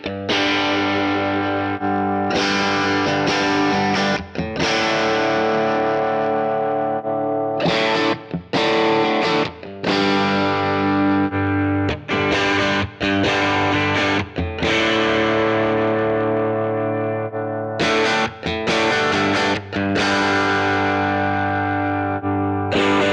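Electric guitar runs through Universal Audio Ox speaker cabinet emulations, including 1x12 cab models. Strummed distorted chords ring out loud and continuous, with short breaks between phrases as the tones change. No one speaks.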